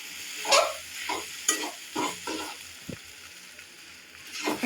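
Noodles and egg are stirred in a hot pan, with several scraping strokes of the utensil against the pan over a soft, continuous sizzle of frying, close up and with no talking.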